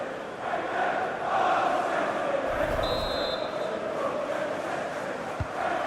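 Stadium crowd in the football video game FIFA 19 at a Chelsea versus Manchester City Community Shield match, a steady loud roar of spectators filling the whole stretch with a brief whistle-like tone midway.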